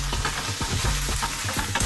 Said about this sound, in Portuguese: O frango já tá fritando mais, fazendo aquele fundinho que ele vai usar para fazer o molho